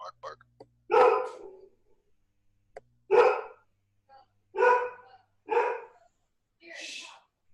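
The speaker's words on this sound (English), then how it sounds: "she's laying and just doing like a muffled bark" A dog lying down lets out a string of muffled, low barks, about five short woofs spaced a second or two apart, fairly close and alone in a quiet room.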